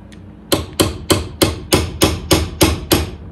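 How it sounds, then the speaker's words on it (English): A nylon punch taps out the nut of an electric ukulele: nine crisp, evenly spaced knocks in quick succession, close and loud, with no talk. "We'll start gentle. We'll start with a nylon punch."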